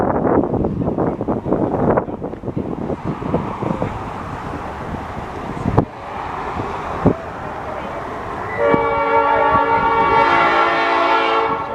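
A Black River & Western Railroad train rolls into Ringoes Station with heavy rumbling and clanking, then its horn blares in a long, loud blast that carries over the wind.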